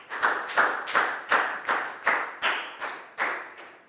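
A pupil in a Year 4 English lesson gets a short burst of classroom clapping, about ten distinct, evenly spaced hand claps, close and crisp, with no talking.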